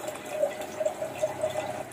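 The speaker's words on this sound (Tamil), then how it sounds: "இந்த மாதிரி வெட்டிட்டு உப்பு தண்ணியில் போட்டுக்கோங்க." Cut eggplant pieces are dropped into a bowl of salt water, making a few small, soft splashes and drips at a close distance. The sound is faint and there is no talking.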